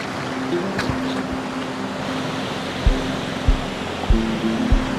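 A soft, steady rush of gentle surf washes continuously on a beach in Quezon, broken by a few low thumps, with a faint hum running underneath.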